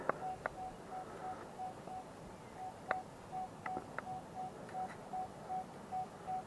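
A Nokta Legend metal detector sounding a steady series of short, evenly spaced electronic beeps outdoors, faint against soft background hiss, with a few sharper clicks scattered between them.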